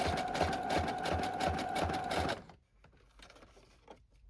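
A sewing machine stitches the edges of a journal dust jacket with a steady, rapid, whirring rhythm that stops partway through, leaving quieter clicks and handling noises.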